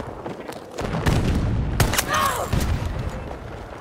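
A pump shotgun fires in a multiplayer shooter game, a few heavy booming blasts close by with a mechanical clack between them, heard alone with no talk.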